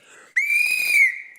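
A single loud referee's whistle blast, shrill and sustained for about a second with a slight rising onset, sounded to start a football fan challenge, close and clear with no talk over it.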